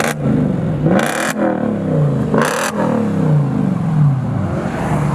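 A car with an aftermarket bang-the-flow exhaust revs close by, engine note sweeping up and down in repeated throttle blips with brief bursts of exhaust crackle between them.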